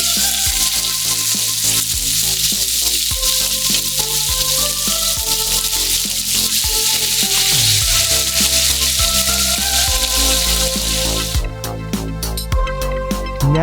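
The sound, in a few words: steak searing in a cast iron pan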